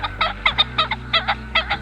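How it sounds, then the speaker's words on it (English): A common pheasant at RSPB Lakenheath in early spring gives harsh, honking calls in a quick series of about eight close, loud bursts over a low background hum. "If you see a pheasant crow like that, within 5 to 10 minutes, it will do it again."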